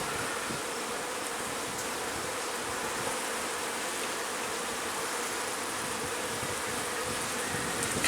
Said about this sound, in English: look at how many bees are in that box